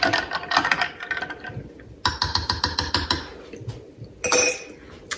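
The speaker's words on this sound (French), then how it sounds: "je vais juste donner un petit coup pour brasser" A small spoon clinks and scrapes around the inside of a cup while stirring a matcha latte, with a steady series of bright metallic taps in bursts, close up and fairly loud, with no voices.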